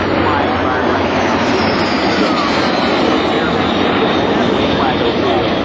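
A P-51 Mustang warbird passes over the Jones Beach airshow, its engine a loud, continuous broadband roar that holds steady without pause for the whole stretch.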